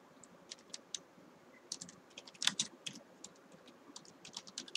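Quick, irregular clicks of a computer keyboard as a SQL statement is typed, light keystrokes in scattered bursts close by in a quiet room.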